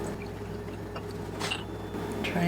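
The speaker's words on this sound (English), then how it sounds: "I'm just literally going to pour it right in." Melted ghee pours from a container into small half-pint glass jelly jars, a soft liquid trickle and splash that swells slightly toward the end, close by and fairly quiet over a steady hum.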